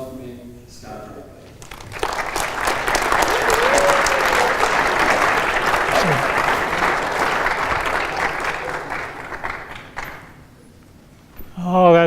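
An audience applauds steadily to welcome speaker Scott Bradley, a full sustained clap that swells, holds for several seconds and then fades.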